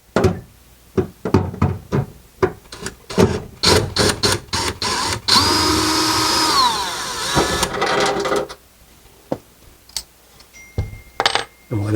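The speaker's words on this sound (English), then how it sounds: "we're going to take our electric screwdriver and we're going to go in the counterclockwise position" Electric screwdriver backing out screws from a range hood, short whirring bursts and a longer sustained whine mixed with knocks and clicks of screws and tools, close and fairly loud.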